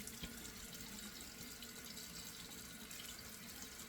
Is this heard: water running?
yes